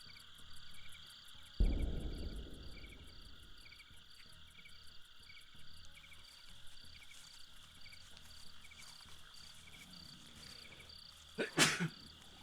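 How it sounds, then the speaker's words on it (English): One sudden loud sneeze rings out and fades over a steady game night ambience of chirping insects and croaking frogs, followed by a brief clatter near the end. "I knew I was going to sneeze then."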